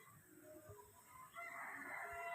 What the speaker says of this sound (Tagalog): May mga manok pa sa taas ng mangga. Hindi makababa.